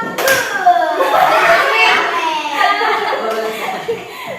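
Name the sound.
group clapping a rhythmic clap chant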